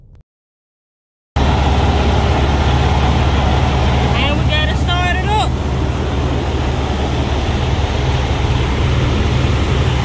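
Car engine running while hooked to a truck that is switched off, a loud steady low drone after a short silent start, with a brief higher whine partway through.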